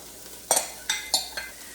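A spoon scrapes and stirs carrots into onions frying in a soup pot, making four quick clanking strokes over a low steady sizzle, close and clear, with no talking.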